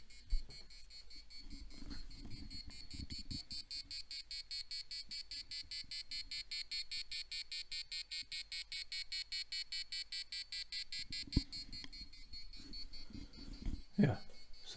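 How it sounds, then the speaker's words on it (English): An Arduino passive buzzer sounds a long run of separate, evenly spaced high beeps with short pauses between them, faint under intermittent nearby talking at the start and end. "Yeah, so that's the passive buzzer"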